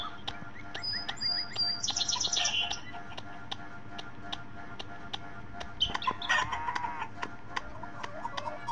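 Chickens cluck and chirp in a farmyard where hens are being caught for their eggs, with short calls in scattered bursts and one brief crowing-like phrase early on, all fairly close.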